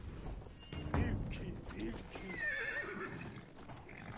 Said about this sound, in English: Let's play with a horse.